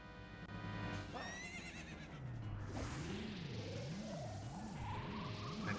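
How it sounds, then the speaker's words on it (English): A whinnying horse neigh sounds out in The Legend of Zelda: Ocarina of Time, clear and prominent over a wavering, sweeping game music backdrop. "Listen for the horse sounds."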